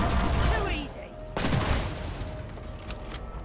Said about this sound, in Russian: беззащитная железяка расстреливается из всех стволов